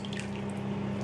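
Running water fills a bathroom sink while hair extensions are washed, a steady close trickle and splash with faint drips, no talking.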